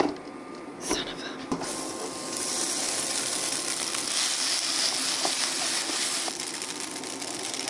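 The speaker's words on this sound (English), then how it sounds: "I feel like it's starting to sizzle, just like real bacon" Spaghetti and egg mixture sizzles in a hot pan with a steady, dense, close hiss and crackle, broken by a couple of brief clatters near the start.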